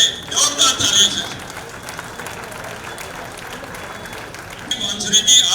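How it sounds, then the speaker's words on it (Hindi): Audience applause at a political gathering in Punjabi Bagh, Delhi, a steady wash of clapping that swells at the start and again near the end, with some voices mixed in. "जोरदार तालियों से, जोरदार तालियों से"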